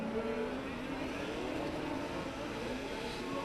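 Electric four-wheel-drive, four-wheel-steer race car at an Andros Trophy ice race, a steady whirring drone with road roar held throughout at moderate distance, no pauses or breaks.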